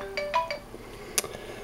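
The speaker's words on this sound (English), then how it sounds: "Sorry, it's my phone." A mobile phone rings with a few short, bright tonal chimes, faint and close, followed by a sharp high click.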